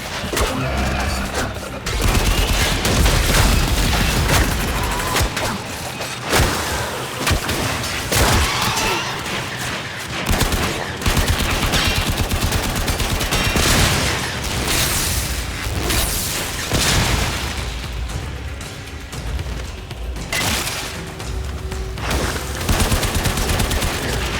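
Gunfire rakes hostiles in Warframe, sustained bursts of shots and booms running densely through the whole stretch, loud and busy with game music and effects layered beneath.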